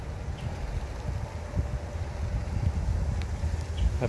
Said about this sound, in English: hear the winds coming in behind me